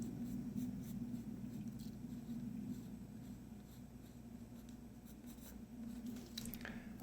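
Faint scratchy pencil strokes on paper while sketching hands, with soft, irregular scraping at close range and no talking.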